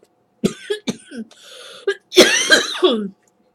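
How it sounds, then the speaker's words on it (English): Several short, harsh coughs in quick succession, followed by a longer, raspy throat-clearing cough, close and loud. "Stupid cough."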